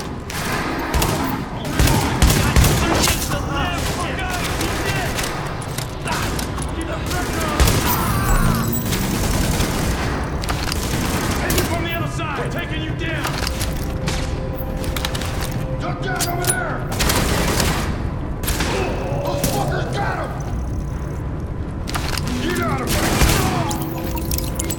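Sustained gunfire in the tactical shooter The Division, set at a power plant, with dense overlapping shots and rattling bursts filling the whole stretch, loud and close, with talk mixed in.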